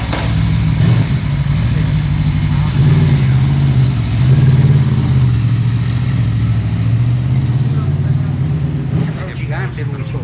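A 2009 Aprilia RSV4 motorcycle engine runs steadily at a loud, close idle with a deep, throbbing mechanical note that holds nearly constant, then eases slightly near the end as sharp clicks cut in.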